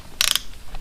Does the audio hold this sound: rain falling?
no